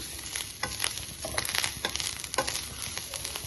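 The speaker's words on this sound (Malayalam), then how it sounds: "സ്വല്പം വെളിച്ചെണ്ണ ഒഴിച്ചു അത് പെട്ടെന്നൊന്ന് വറുത്ത് കിട്ടും" Light frying in a little coconut oil for a Kerala thiyal with chundanga, giving a steady close sizzle with scraping, crunchy stirring strokes throughout.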